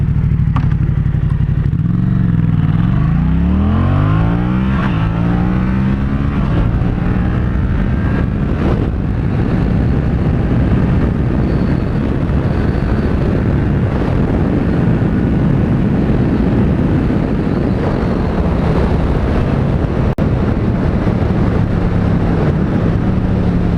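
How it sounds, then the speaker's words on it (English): A Yamaha MT-07 motorcycle pulls hard from a slow idle, and its engine note sweeps upward through quick clutchless upshifts. The exhaust roar stays loud and close while wind noise builds during the run. "that was just a quick pull with the clutchless shifting"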